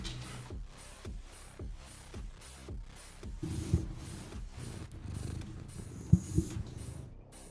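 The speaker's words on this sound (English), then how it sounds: "Careful. Cat is here. As cat is wont to be." A domestic cat purring close by, a steady rhythmic rumble of repeated breaths in and out, with a couple of brief louder bumps near the end.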